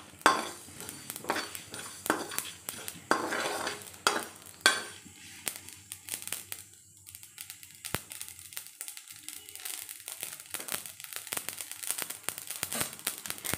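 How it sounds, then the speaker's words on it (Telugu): Spices crackle and pop while frying in a pan, faint scattered sputters mixed with clinks of a utensil against cookware, with a voice speaking over parts of it. "సో చిట్పట్లు ఆడుతున్నాయి కదా"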